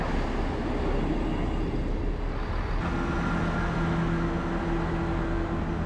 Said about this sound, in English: here comes our train, and, well, it's yet another identical TFW Class 158.